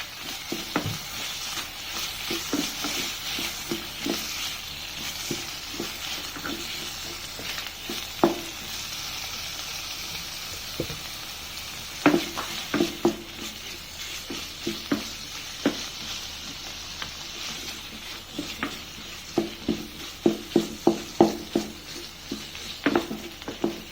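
Pork stir-frying in a pan for a southern Thai shrimp and stink bean dish: steady loud sizzle with frequent scraping and clacking spatula strokes throughout, no voices.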